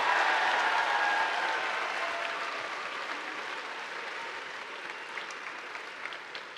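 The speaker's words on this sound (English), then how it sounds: "So let's give all of our UP teams a huge round of applause." A large audience applauds UP teams at a FIRST robotics state championship, sustained broadband clapping that starts loud and slowly fades over several seconds, with no talk over it.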